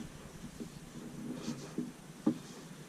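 Writing with the pen from a Wenger memo folio, soft scratchy strokes on a paper pad with a few light taps, close and quiet.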